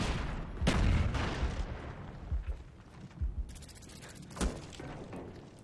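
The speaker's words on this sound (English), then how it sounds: "Oh, nice panic shooting, buddy." Gunfire in Call of Duty: Black Ops: several sharp, fairly quiet shots and short bursts scattered across a few seconds over low background game noise, with no voices.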